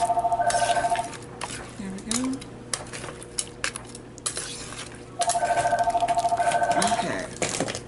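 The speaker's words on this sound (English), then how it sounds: "And there's the telephone interrupting." A telephone rings twice in a home kitchen during a cooking session, each burst a steady trilling electronic ring of about two seconds, with clattering dishes and utensils and stirring sounds between the rings.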